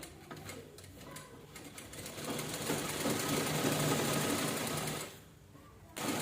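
A sewing machine stitches a two-colour purse, running as a continuous close whirring hum that cuts out briefly and then starts again near the end.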